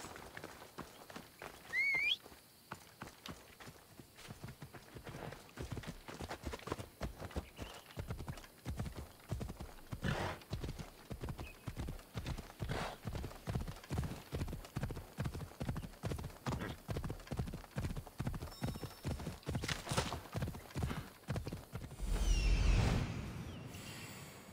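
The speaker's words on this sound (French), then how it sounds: "On va utiliser le cheval." Horse hooves clip-clop steadily in a fast rhythmic gallop in the video game Assassin's Creed Odyssey, with a brief neigh near the start and a loud low thump near the end.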